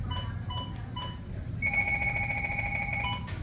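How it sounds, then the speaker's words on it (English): A weather radio alarm sounds a steady electronic tone, first in short repeated beeps and then a sustained high beep for over a second, fairly faint against a low background hum. "So that's the alarm."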